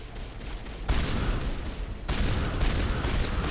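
Shotgun blasts in the Mass Effect video game, loud close booming shots in quick succession over dense crackling combat noise, with two heavier bursts standing out.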